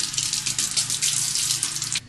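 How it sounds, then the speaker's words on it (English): Kitchen tap water runs steadily over a sprig of fresh garden rosemary being rinsed, a close, hissing gush that stops abruptly near the end. "I'm going to clean the rosemary by washing it under running water."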